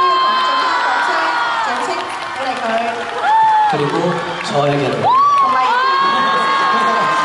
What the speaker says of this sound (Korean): 준영군에게도 큰 박수 부탁드려요.